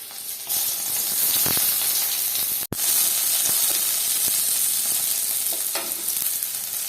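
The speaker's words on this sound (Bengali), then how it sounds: "কড়াইতে তেলটা গরম হয়ে গেছে দিচ্ছি পেঁয়াজ রসুন" Onion and garlic sizzle steadily in hot oil in a kadai, a dense continuous frying hiss with a brief dropout midway and occasional stirring scrapes.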